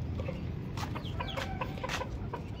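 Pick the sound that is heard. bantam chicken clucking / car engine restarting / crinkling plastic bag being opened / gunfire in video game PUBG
bantam chicken clucking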